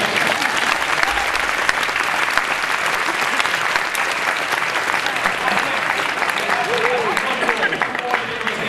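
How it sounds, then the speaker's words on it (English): Sustained audience applause at a fan convention's meet-the-stars panel, a dense steady wash of many clapping hands filling the room for several seconds, with faint voices and cheers mixed in. "I think he deserves a round of applause."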